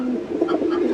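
A white Bombay pigeon coos in soft, throaty pulses, steady and close, with no voices over it.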